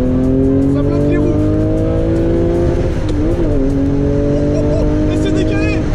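A race car brakes hard on a circuit with its wheels locking, giving a loud, steady engine drone with stacked harmonics throughout and a brief wobbling dip near the middle, with speech over it.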